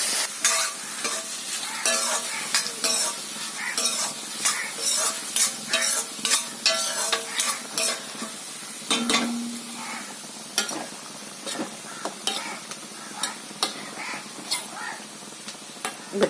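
Onions sizzle in a pan for a drumstick curry while a spoon stirs them, scraping and clinking against the metal in a steady, repeated rhythm over constant frying hiss.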